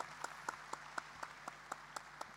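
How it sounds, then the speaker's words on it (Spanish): Audience at a national church convention forum clapping to welcome a speaker, a soft, sparse sequence of evenly spaced claps over a low background hum, faint and short. "la recibimos con un fuerte aplauso"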